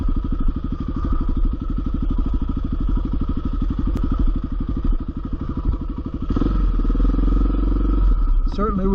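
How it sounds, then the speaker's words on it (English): A motorcycle engine chugs steadily up close, then revs harder with clattering and thumps as it bounces over a rough trail near Nevada City, California. "But this is a motorcycle"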